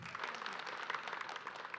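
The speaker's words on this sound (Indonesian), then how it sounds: "tepuk tangan dulu yuk" A studio audience at an Islamic talk show claps in a dense, steady round of applause, many hands at once, with no voices.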